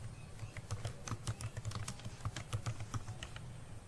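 Rapid keystrokes on a computer keyboard while entering header text in Microsoft Word 2010, a steady patter of close, fairly quiet clicks with no voice.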